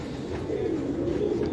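A pigeon of an unidentified breed coos softly in a loft, a steady low murmuring run that carries on through the whole moment with no voices over it.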